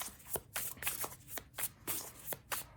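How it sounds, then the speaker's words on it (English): Tarot cards riffled and shuffled by hand, a series of sharp papery bursts about every half second, close and fairly loud with no talking. "a couple more shuffles here."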